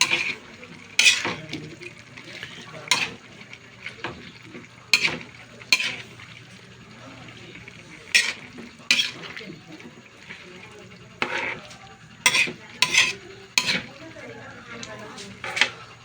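Hot water hits a sizzling pan, followed by stirring with repeated sharp scrapes and clinks of a utensil against the metal over a low bubbling sizzle, while a voice talks intermittently.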